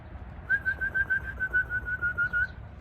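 Racing pigeons pass overhead with a steady high whistle that pulses rhythmically, heard above a soft outdoor rumble.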